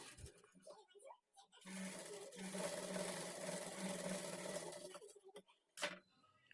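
A sewing machine stitches darts into a blouse, running in one steady, close burst of about three and a half seconds, with quiet handling noises before and after.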